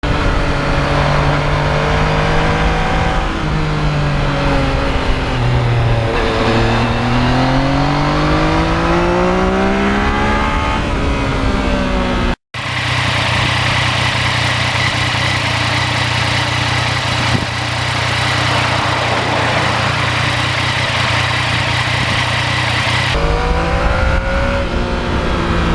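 A 2020 Yamaha MT-09 motorcycle engine drones loudly while riding, its pitch rising and falling through gear changes and throttle shifts, with a brief cut midway and steady wind rush throughout.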